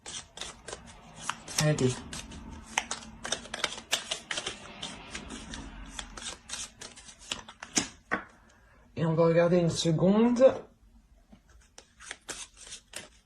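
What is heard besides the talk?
tarot cards being shuffled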